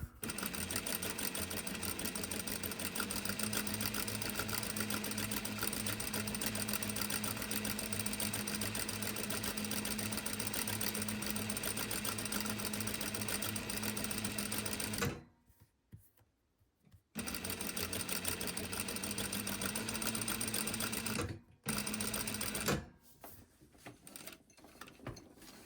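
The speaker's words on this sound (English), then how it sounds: "now we're going to go back, do a second line of basting stitch at about a 1/4 inch." A sewing machine sews a line of basting stitch on fabric, a steady fast whirring rattle running close and continuous for about fifteen seconds, then pausing and starting again in shorter bursts.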